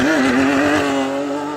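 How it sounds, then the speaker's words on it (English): A Lamborghini Aventador launches hard from a standstill, its engine roaring loud and close as the pitch climbs steadily through the run with no talking. "Here's an Aventador launching just for good measure."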